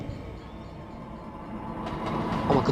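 A train approaches in a Victorian railway train-driving video game, its rolling rumble and rail noise steadily growing louder over a few seconds.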